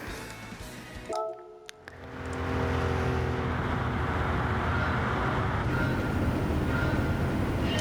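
A rear-engine, rear-wheel-drive car in Gran Turismo, heard from the PSVR2 version; a brief lull gives way to a steady, loud engine drone and road noise that holds for several seconds without voices.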